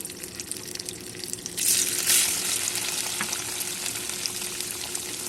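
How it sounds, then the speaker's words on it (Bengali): Small pieces of paneer fry in white oil in a wok, a steady close sizzle with faint stirring, swelling louder partway through as more pieces go in, with no talking. "কড়াইতে সাদা তেল দিয়ে ছোট ছোট করে রাখা পনিরগুলো এক এক করে ভেজে নেব।"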